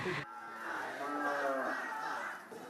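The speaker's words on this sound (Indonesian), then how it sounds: "Dialog dilakukan Anies sambil memberi pakan pada sapi yang diternak." Farm cattle being fed in Lampung, Indonesia, give a long, drawn-out moo that carries clearly over faint crowd chatter nearby.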